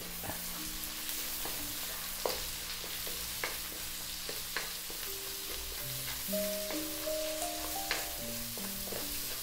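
Onion and dried bay leaves sautéing in a pan for a Filipino chicken asado stew, a steady close sizzle and fry with occasional sharp clicks of stirring utensils against the pan, no talking.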